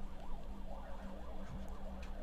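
Fire engines race past on a city street, their wailing sirens rising and falling in a repeating sweep. They sound moderately distant and faint over a low traffic rumble.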